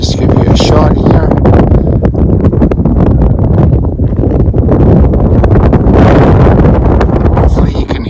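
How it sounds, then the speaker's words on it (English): Gusty wind roars loudly across the microphone at the top of a prairie coulee, surging and fading in strong buffets throughout. "It's kind of windy up here"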